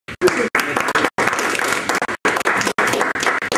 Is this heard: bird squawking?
no